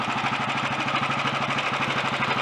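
An early Redditch Royal Enfield 350 Bullet engine idles close up with a steady, rapid mechanical chatter, the magneto-dynamo drive adding a noisy whir over the even beat of the single cylinder.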